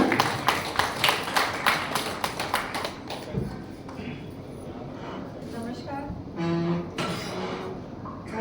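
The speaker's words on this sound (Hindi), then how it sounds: "मंजरी जी की तालियां" Audience clapping at a BCL chapter meeting during a Diwali-season gathering, a burst of dense hand claps for several seconds that thins out, followed by murmuring and background room noise.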